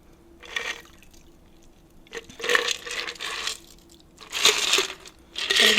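Lemon drop cocktail poured from a shaker into a glass, giving several short splashing, trickling bursts with pauses between them, close and moderately loud, with no talk.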